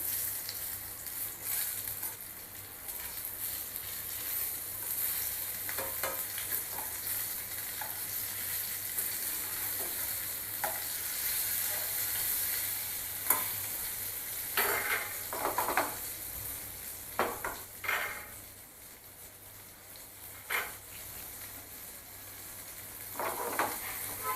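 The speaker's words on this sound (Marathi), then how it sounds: "ह्या बाजूने चांगलं 2-3 मिनटं आपण हे फ्राय करून घ्यायचं" Fish fries in a pan with a continuous, moderately loud sizzle, broken now and then by sharp scraping and clinking sounds from stirring or flipping.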